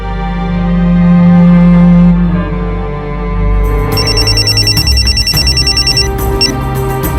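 A telephone rings insistently with repeated electronic trills, loud and close, after a stretch of low background tones, the ring pattern pulsing steadily to the end.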